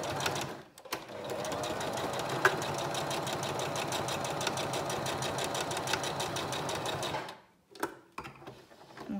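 A sewing machine straight-stitches around the rectangle of a reversible fabric face mask, a fast, even mechanical whir for several seconds, starting and stopping with brief quiet gaps and small clicks.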